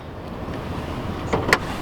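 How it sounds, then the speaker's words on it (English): A 2013 Ford Expedition Limited folds its power mirrors with a quiet electric motor whir. The whir starts near the end of a soft idle background and ends with a short mechanical clunk as the mirror stops. "Power folding mirrors."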